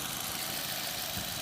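A 2022 Maruti Suzuki Breeza VXI petrol car engine idling, a low steady hum with faint irregular ticking, heard close and quiet over a brief stretch.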